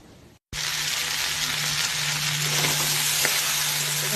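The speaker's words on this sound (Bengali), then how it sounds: "এখানে ঘি করলা আলু লঙ্কা কাঁচা লঙ্কা সমস্তটা ভেজে ভালো করে পোস্ত দিয়ে ঘি করলা আলু সব কিছু ভেজে নিচ্ছি" Bitter gourd, potatoes and green chili frying in ghee, a sudden loud, steady sizzle that starts after a brief quiet moment and holds on continuously up close.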